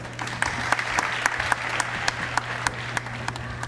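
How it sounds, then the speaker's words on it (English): Applause at a school district Juneteenth celebration, many hands clapping steadily over a low hum of room noise, with a few sharp, close individual claps standing out in a fairly regular rhythm. "Give her a round of applause"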